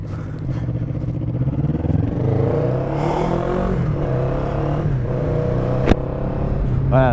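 Honda motorcycle pulling away on a road during a riding-school outing, engine revving up and holding a steady drone close by, with a brief sharp clack near the end and a voice talking over it.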